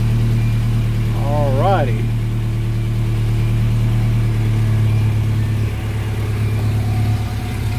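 A Nissan D21 Hardbody pickup's engine idles steadily right after its first start following timing work, a loud, close, even low hum throughout, with a voice speaking briefly over it.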